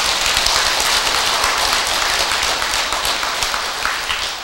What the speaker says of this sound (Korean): 근데 박수 그 소리가